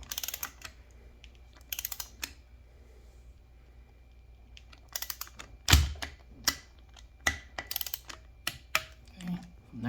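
Wrench torquing bolts on Method beadlock wheels, a series of sharp ratcheting clicks and metallic taps in uneven bursts, close by, over a quiet background with no talking.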